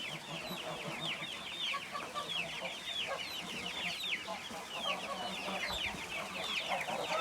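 Sussex pullets and chicks in a coop, a busy chorus of soft clucks and peeping chirps that goes on without a break, fairly quiet and close, with no talking.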